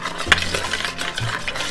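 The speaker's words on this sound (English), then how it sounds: "you're gonna get a whisk, my trusty whisk, and you're gonna blend this all together really well" A whisk beats an olive oil marinade in a bowl for carne asada street tacos, quick close scraping strokes with a sharp tap against the bowl early on.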